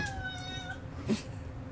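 A house cat gives one drawn-out, close meow, followed by a shorter, fainter cry, over steady low background noise. No one speaks.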